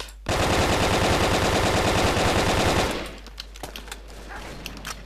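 Rapid automatic gunfire from a weapon in the video game BrickForge, a loud dense burst of shots lasting a few seconds, then cutting off into quieter game noise with scattered faint clicks.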